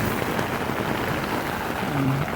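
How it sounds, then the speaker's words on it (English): Heavy rain pounds steadily on a USMC two-man combat tent during an afternoon Carolina thunderstorm, a dense continuous hiss of drops close around, with a low thunder rumble building near the end and no talking. "Best time to do that right here in the middle of a good rain shower."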